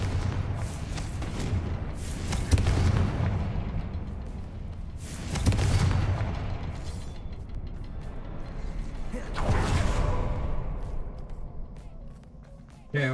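Fiery Confringo spell explosions in a video game: several heavy booming blasts roughly every few seconds, each with a broad rushing burst that fades into a rumbling background.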